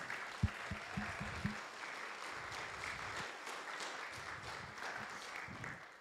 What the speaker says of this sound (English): Can we give a round of applause to all of our volunteers?